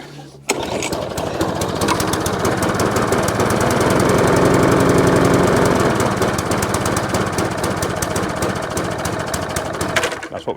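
A small engine fitted with a cheap copy carburetor runs badly, a loud, continuous rough chatter with uneven knocking pulses that holds steady throughout after a sharp start, with no speech.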